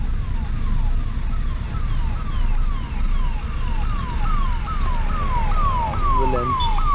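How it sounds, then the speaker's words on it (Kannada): An ambulance siren wails loud and close in traffic, heard from inside a 2013 Swift VDI car, its rising and falling tone repeating steadily over constant engine and road rumble. "ಪಾಪ ಆಂಬ್ಯುಲೆನ್ಸ್ ಬಂದ್ರು ಏನು ಮಾಡ್ತಾರೋ"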